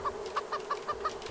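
Chickens kept on a floating raft in the Raft survival game give short clucks in a steady rhythm, about six evenly spaced calls in a moment, fairly close and clear over a quiet hum.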